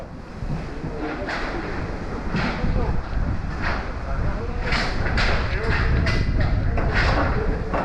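Blustery wind buffets the microphone at Paphos Harbour, with a low rumble of water and boats beneath and a steady, loud rush throughout.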